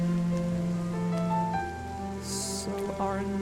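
Rain falls in the adventure game RiME as a steady soft hiss beneath tonal game music, continuous throughout with a brief brighter swell near the end.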